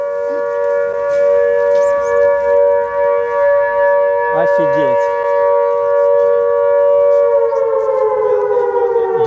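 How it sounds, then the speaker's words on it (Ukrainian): A loud air raid siren wails steadily throughout at an outdoor market on Darnytska Square in Kyiv, its pitch sliding lower toward the end, with a brief spoken exclamation partway through. "бачите, як тут гучно, коли відбувається повітряна тривога"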